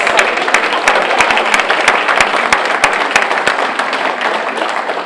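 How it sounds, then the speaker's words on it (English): A school board meeting audience applauds student German Fest champions with loud, close, steady clapping, where crisp individual hand claps stand out sharply over the ongoing roar of the room. "Let's give them a round of applause."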